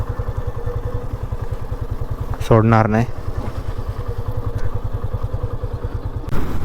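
Yamaha FZS V2 motorcycle engine running steadily with a low, even rhythmic throb throughout, while a person talks briefly over it midway.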